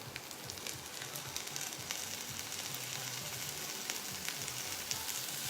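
Thin slices of ham fry steadily in a pan, giving a continuous bright sizzle with small crackling pops throughout, fairly close and with no talking.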